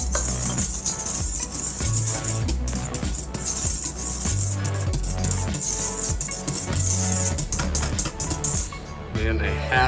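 Salt being stirred into rising pizza bread dough in a bowl, a loud, continuous scraping and clattering mix with steady rhythmic strokes filling the whole stretch, no talking.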